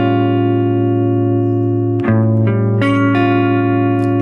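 Guitar chord voiced with a flat thirteenth for tension, a sustained ringing strum followed by a few shifting notes over the held tones, close and clean.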